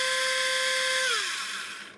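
A Tamiya electric handy drill, a small geared-down hobby tool for plastic models, whirs steadily with a high motor whine that drops in pitch as it spins down near the end, heard close and alone.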